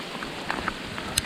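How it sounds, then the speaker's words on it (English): Hail comes down hard during a Colorado mountain thunderstorm, a dense rushing patter with a few sharper ticks of stones striking nearby surfaces. "Oh boy, now we got hail."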